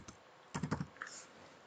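Quick burst of four or five keystrokes on a computer keyboard while a currency field named salary is entered in Microsoft Access, followed by a lighter click; close, crisp and short, with no speech over it.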